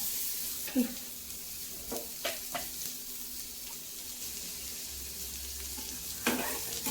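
Chopped onion hitting a hot pan with green chillies, giving a steady soft sizzle and hiss with a few sharper stirring clinks scattered through, close and moderately loud, no talking.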